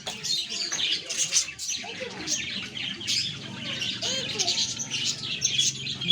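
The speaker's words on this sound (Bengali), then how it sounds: "ওগুলো বদ্রি, অনেকগুলো পাখি দেখো" A flock of budgerigars in a park aviary, with many overlapping chirps and squawks from a busy group, a few wingbeats mixed in, moderately close and continuous.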